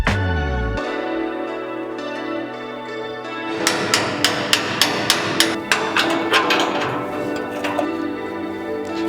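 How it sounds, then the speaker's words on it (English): A hammer whacks a metal jig on a Mazda mini truck during a 240SX angle-kit install, landing a rapid series of about eight loud, sharp, evenly spaced strikes after a steady mechanical hum. "Because we whack this thing a few times with a hammer"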